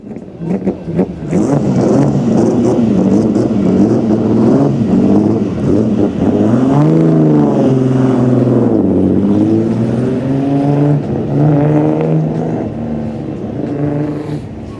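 A Porsche 997 Turbo engine is revved hard nearby, its loud roar climbing and falling in pitch through repeated throttle blips and sustained revs over about fifteen seconds.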